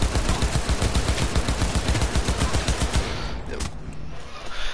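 Rapid automatic gunfire in a video game, a dense, loud stream of shots for about three seconds before it stops and leaves quieter game noise.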